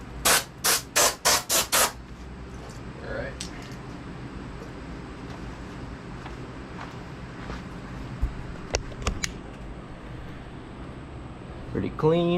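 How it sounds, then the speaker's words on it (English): Compressed air blasting roach droppings and debris out of the engine of a Craftsman riding mower: six sharp, loud bursts of air in quick succession, then quieter scattered clicks and handling sounds. "Let me hit this thing real quick with some compressed air and get rid of all the roach droppings in there before it falls in the intake."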